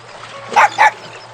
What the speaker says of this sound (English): A dog?